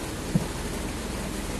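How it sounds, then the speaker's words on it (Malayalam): Heavy, non-stop rain pours down around a small camper van during a solo camping trip in Kerala, a dense steady roar with a low rumble of thunder underneath and no voices. "അടിപൊളി മഴയാണ്, നോൺ സ്റ്റോപ്പ് മഴ."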